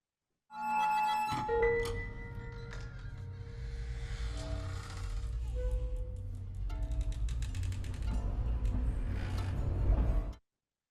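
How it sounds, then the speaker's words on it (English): A creaking door opens within an orchestral piece, rendered as a sustained grinding, ratchet-like creak with ringing tonal overtones that runs loud and steady for about ten seconds before cutting off. "followed by the door opening"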